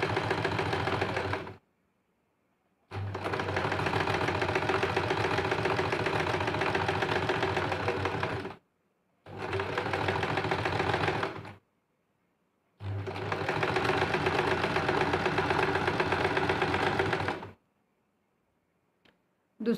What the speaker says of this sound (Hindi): दोबारा से एक बार फिर से सिलाई करते हैं।